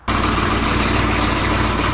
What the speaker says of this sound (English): let's listen to the sweet sounds of a turbo Hemi for a second.